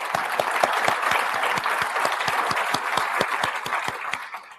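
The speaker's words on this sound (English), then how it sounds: "How about giving these guys a round of applause?" Attendees at a firearms freedom conference in Alabama applaud loudly and continuously, a thick wash of clapping from a close crowd with distinct individual claps standing out throughout.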